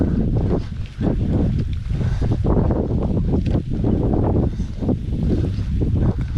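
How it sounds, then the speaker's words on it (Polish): Strong wind buffeting the microphone in heavy low rumbling gusts, loud and continuous while cycling on a gravel bike in open country. "Fajnie wiatr chłodzi teraz na otwartej przestrzeni"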